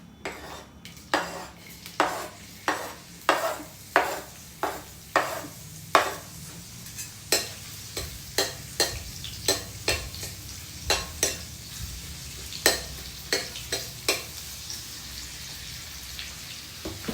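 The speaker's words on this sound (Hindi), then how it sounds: "जितनी देर में हमारे चने फ्राई होंगे" Chickpeas fry in a pan while a utensil scrapes and clinks against the metal in a steady run of sharp strokes, close and fairly loud, over a soft sizzle with no voices.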